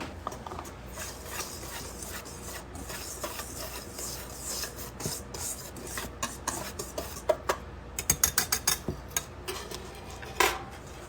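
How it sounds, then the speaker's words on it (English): Salt and baking powder whisked together in a bowl: a steady patter of light scraping and tapping from the whisk, faint and continuous, ending in a quick burst of sharper clicks against the bowl's rim. "I'm just gonna whisk all that together"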